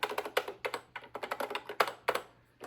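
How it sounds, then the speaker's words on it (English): Clicky arcade stick buttons on a game console controller, tapped in quick, irregular bursts of sharp, close clicks with no talking. "it's a full-blown arcade stick. It's good, nice and clicky."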